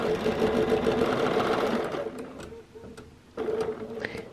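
Sewing machine quilting a spiral along a circle ruler, stitching at a steady fast rhythmic patter close up, pausing briefly midway before resuming.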